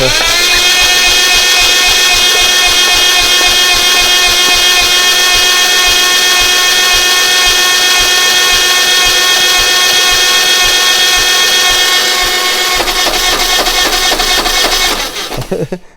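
A Carter race engine is cranked by its starter motor, a loud, rapid, even churning that runs steadily for about twelve seconds before the rhythm roughens and the cranking cuts off abruptly near the end.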